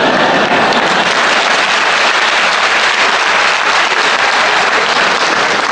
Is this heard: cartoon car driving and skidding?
no